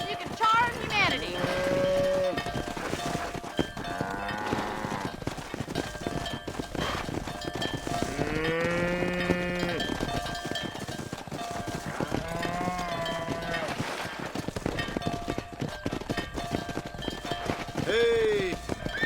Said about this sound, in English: We need to get these cows out of the pen and onto the road before we all die of boredom